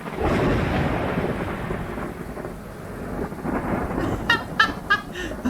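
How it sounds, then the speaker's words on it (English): Thunder rumbling with rain during a storm in the Phasmophobia video game, a steady low roar with sharper bursts toward the end. "I got spooked by lightning."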